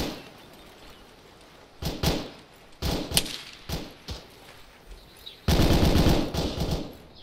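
Machine-gun fire in the military shooter ARMA 3: several short rattling bursts spaced a second or so apart, ending in a longer, louder sustained volley, with no speech.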